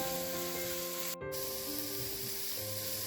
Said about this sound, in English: saute until the raw smell of the powders goes